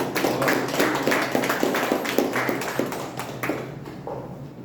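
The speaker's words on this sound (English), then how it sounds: "give a big round of applause" Meeting audience giving a round of applause, a steady run of claps at moderate volume that thins out toward the end.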